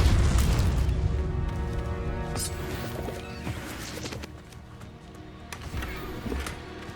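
Incendio fire spell cast in Hogwarts Legacy, heard as a burst of booming, crackling impact that is loudest at the start and fades, followed by scattered smaller thuds and clanks during combat.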